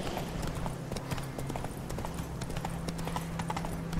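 Roach, a horse in The Witcher 3, gallops with quick rhythmic hoofbeats that keep clopping steadily from start to finish, close and clear, with a low hum of game ambience underneath and no talk.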